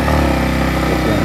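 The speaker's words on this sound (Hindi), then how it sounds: "तो मैं एक बार और स्टार्ट करता हूँ" A Yamaha MT15 motorcycle engine runs just after being started, a close, loud, steady idle with an even throbbing rumble and no voices over it.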